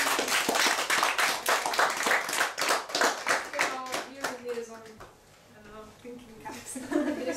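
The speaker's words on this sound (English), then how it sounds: "let's give him a round of applause" A lecture audience gives a round of applause after the speaker's introduction, dense clapping at first that thins and fades, then picks up again near the end.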